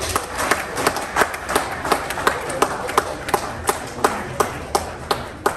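An audience at a moot court competition claps in a sparse, rhythmic pattern, sharp individual claps spaced at a steady beat, fairly close.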